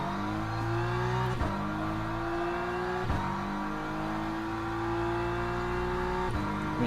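Ford Mustang race cars roar in a Le Mans racing game, the engine note climbing steadily through each gear, then dropping sharply at every shift, repeating several times; loud, continuous and close.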